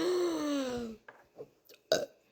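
A loud, close belch after lunch, one long drawn-out burp lasting about a second, followed by a few short, quieter throaty sounds and small clicks.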